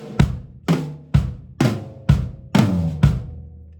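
Drum kit flams on each quarter note, played as a flam rudiment, with bass drum strokes between them: seven sharp, evenly spaced double-struck hits ringing briefly, close and loud with no talking.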